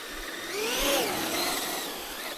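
A Traxxas UDR RC truck's electric motor whines and rises in pitch, steady and moderately loud at mid distance, with no talk over it.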